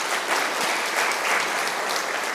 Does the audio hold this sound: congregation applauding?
yes